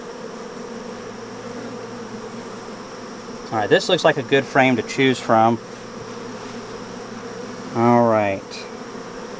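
Honey bees hum in a continuous low drone around hive frames from a homemade hive, steady and close throughout, while someone speaks briefly in two short stretches.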